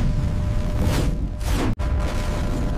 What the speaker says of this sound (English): It's a powerful sound wave, AJ.